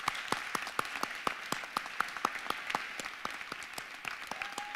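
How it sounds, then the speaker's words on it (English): Applause from an audience at a charity challenge finals event, heard as sparse, distinct claps at a brisk, fairly regular pace against a soft wash of further clapping. "Let's give them a round of applause first."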